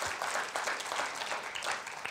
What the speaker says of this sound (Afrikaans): Kan ons hom 'n hande klap gee?